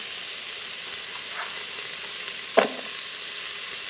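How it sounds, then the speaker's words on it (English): Chopped onion sizzles in vegan butter heating in an Instant Pot, a steady close frying hiss with one sharp crackle as pieces land. "So the Instapot is heating up. I'm just gonna go ahead and drop in the onion."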